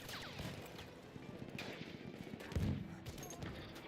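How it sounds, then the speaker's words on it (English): Enemy machine gun firing in the World War I shooter Battlefield 1: rapid, fairly distant bursts of gunfire mixed with scattered shots and one heavier thump, all quiet under wind-like battlefield noise. "Feindliches MG!"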